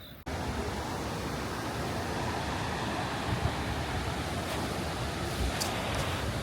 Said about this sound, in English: I can hear the sound of the waterfall.